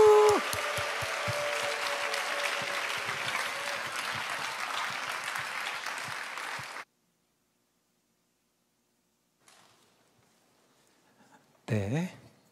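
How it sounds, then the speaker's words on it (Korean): A church youth-retreat congregation applauds warmly as a pastor is welcomed, with steady close clapping that stops abruptly, then near silence before a brief voice. "우리 힘차게 박수치면서 우리 환영했으면 좋겠습니다"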